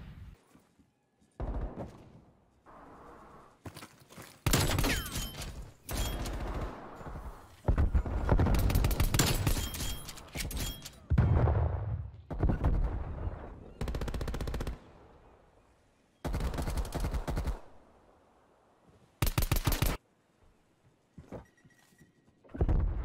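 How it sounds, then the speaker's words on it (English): Hardcore-mode pistol gunfire in Call of Duty: Black Ops Cold War, loud sharp shots in irregular bursts and single cracks spread across the stretch, with gaps of quieter game ambience between. "I'm just using a pistol on hardcore."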